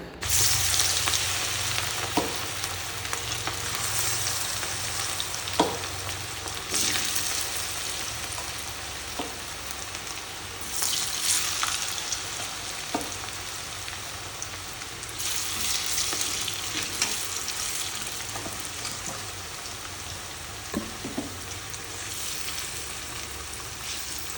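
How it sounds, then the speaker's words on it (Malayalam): Cauliflower pieces frying in hot oil, a second batch, with a steady, dense sizzle and bubbling throughout and occasional soft stirring knocks, close and continuous with no talking. "അപ്പോൾ നമ്മുടെ കോളിഫ്ലവർ ഇടുമ്പോഴത്തേക്ക് നമുക്ക് അറിയാൻ പറ്റും നന്നായിട്ട് തിളച്ച് പൊങ്ങും."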